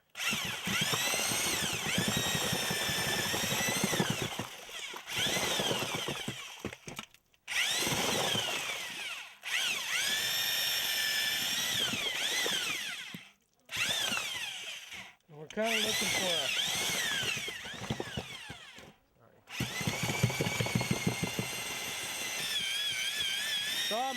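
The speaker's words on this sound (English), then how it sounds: "pulsing the drill up and down." A power drill with a paddle mixes earthen plaster with water for straw bale walls, whining steadily in long bursts with short pauses as the trigger is pulsed and the drill is worked up and down.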